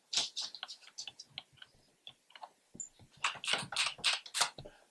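Typing on a full-size Filco Majestouch 2 mechanical keyboard with non-clicky switches, a quick run of dry, close keystrokes in uneven bursts with a short pause midway, no talking.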